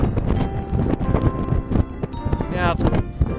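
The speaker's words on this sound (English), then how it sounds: "Now it's very windy." Strong wind during a Christmas blizzard in Stone Harbor, New Jersey buffets the microphone with a heavy, gusting low roar while a person talks over it.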